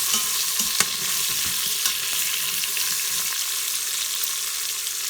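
Sliced onions frying steadily in a pan for paneer dum biryani, a continuous close hiss of oil with a few light clinks of a spatula stirring, no talk.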